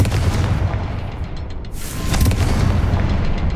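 A Confringo blasting spell goes off in the Hogwarts Legacy video game, a loud, dense, rumbling explosion that fills the whole moment with a deep boom and crackling burst, no voices.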